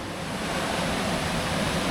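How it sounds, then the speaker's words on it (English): A mountain river in Corsica runs in full flow after heavy rain, a dense, steady rushing roar close by with no voices. "Look at that, the river's in full flow."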